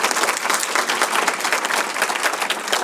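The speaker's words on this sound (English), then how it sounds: "Give them all a round of applause." Audience applause at a women-in-business conference, dense steady clapping from a crowd filling the whole stretch.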